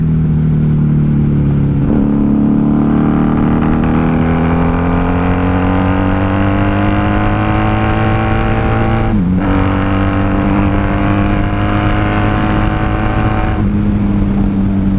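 A 1994 Honda Magna VF750C motorcycle engine revving hard while riding, loud and close, pitch climbing steadily through the gears with a brief dip at a shift and rising again, no talking.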